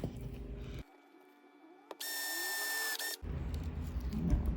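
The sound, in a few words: drilling through folded leather for loop pull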